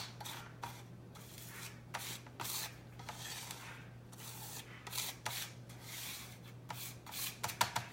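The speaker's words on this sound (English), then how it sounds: "you literally just start scraping, filling the holes" Capsule powder is scraped across a capsule filler plate to fill the holes, a quiet repeated rasping stroke over a low steady hum, no voices.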